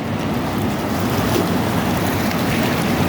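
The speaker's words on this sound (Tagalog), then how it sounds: "Ayan, grabing alon dagat." Loud, rushing surf at high tide roars continuously with heavy wind buffeting the microphone, a dense wash of breaking waves close by.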